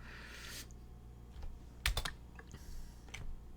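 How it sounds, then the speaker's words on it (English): Keys clatter on a computer keyboard in a few quick, irregular clusters of taps, close and fairly quiet, with a brief burst of faster typing in the middle. "I am typing and it just types whatever."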